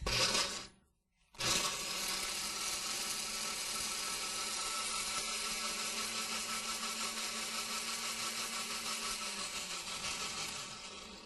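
Blender running on high speed blending cashews and soy milk, a loud steady whirring motor after a brief stop and restart, continuing unbroken for several seconds.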